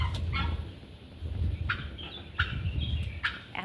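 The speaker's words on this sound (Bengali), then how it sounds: "কি আছে এদিকে মুরগি আছে" Several short clucking and gobbling calls from fowl, close by, scattered irregularly over a low rumbling outdoor background.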